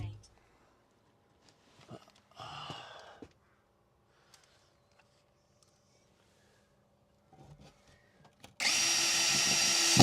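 Close up in a van build, a power drill drives screws into the overhead cab storage: a short whirring burst early on, quiet pauses, then a louder, sustained run at the end.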